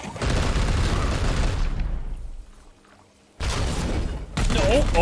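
Gunfire in the tactical game Warhammer 40K: Chaos Gate - Daemonhunters: a loud, dense fusillade of booming shots that fades into quiet, then breaks out again in heavy bursts, with a voice speaking over parts.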